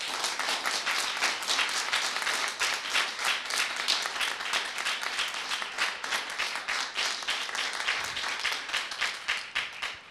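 A studio audience at a Persian television singing competition applauds in a sustained burst of dense, loud clapping that carries on for the whole stretch without a break, with no voices over it.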